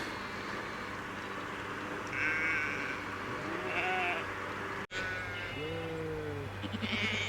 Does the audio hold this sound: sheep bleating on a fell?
yes